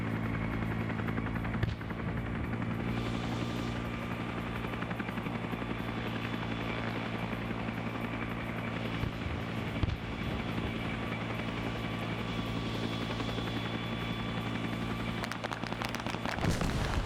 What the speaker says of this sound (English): Theoretically, that helicopter could now hover into the air infinitely.